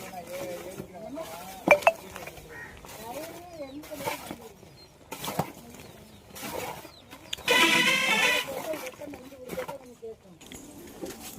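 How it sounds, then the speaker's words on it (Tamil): Boiling palm sap is stirred in a pot for Vembar karupatti jaggery, with scraping and metallic clinks that rise into a louder stretch, while people talk throughout. "நல்லா கிண்டணும்."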